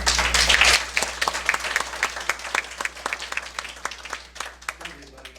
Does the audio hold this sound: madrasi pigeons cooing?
no